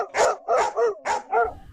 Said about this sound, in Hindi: सारे कुत्ते उसे छीनने के लिए लड़ने लगते हैं।